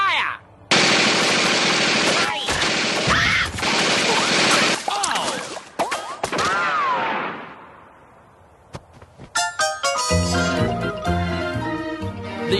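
A sustained, dense burst of rapid gunfire from a cartoon firing squad execution, loud and continuous for several seconds before fading, followed by music.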